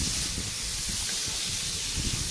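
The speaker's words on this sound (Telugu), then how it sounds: "వీటన్నిటిని ఇప్పుడు శుద్ధంగా ఫ్రై చేసుకుందాం" Ingredients for cucumber chutney fry in a pan, giving a steady, soft, unbroken sizzling hiss with no voices over it.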